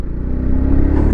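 A Kawasaki Z125 Pro motorcycle engine revs off-road in a steady, close, loud drone that climbs slightly in pitch toward the end, with no talking.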